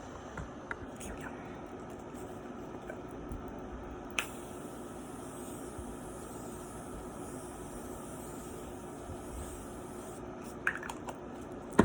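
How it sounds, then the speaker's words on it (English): A Morphe Continuous Setting Mist is sprayed onto a face in one long, steady hiss lasting about six seconds, close by and fairly soft, with a few small clicks before and after. "I'm just going to use the Morphe Continuous Setting Mist."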